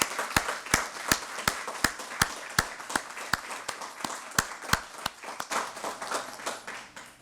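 An audience at a university teaching conference awards ceremony claps in steady, rhythmic unison, loud and close, the beats staying regular throughout.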